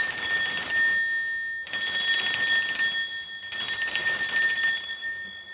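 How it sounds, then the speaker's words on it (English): A hand bell rung in a quiet room to cleanse the space, struck three times about every 1.7 seconds, each strike loud and bright with a long shimmering ring that fades before the next. "I am going to be ringing a bell just to cleanse the space around us"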